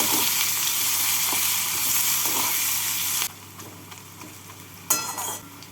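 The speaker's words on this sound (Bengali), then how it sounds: "এর মধ্যে আমি দিয়ে দেবো একটা বড় সাইজের কুচনো পেঁয়াজ পেঁয়াজটাকে লাল করে ভেজে নেব" Chopped onion frying in oil in a pan for katla fish kalia, a steady loud sizzle that drops abruptly partway through, then continues quieter with a brief burst of stirring near the end.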